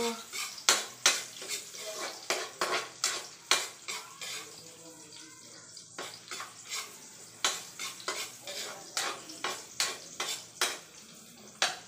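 Aromatics for chicken noodle guisado sautéing in a pan, bright sizzle broken by quick rhythmic metal scrapes and clinks of a spatula stirring.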